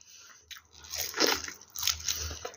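Teeth sink into a sweet, sticky rice snack, followed by close, moist crunching and chewing in two bursts, with no talk over it.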